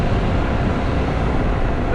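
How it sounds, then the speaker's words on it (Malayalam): Car horns honk from vehicles behind on a road trip through Poonjar and Koottickal in Kerala, short toots rising over a steady roar of nearby traffic and engine noise. "പുറകിൽ നിന്ന് കാറുകാരൊക്കെ നല്ല ഓണടിയാണ്."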